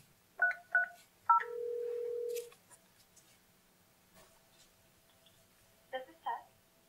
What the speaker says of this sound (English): we hit the transfer key and dial the extension we want to transfer it to